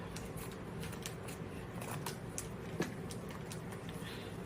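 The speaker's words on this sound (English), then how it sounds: "I'm just going to run my scissors through." A few faint snips of kitchen scissors cutting through a raw salmon fillet, soft, quiet and close against a low background hum.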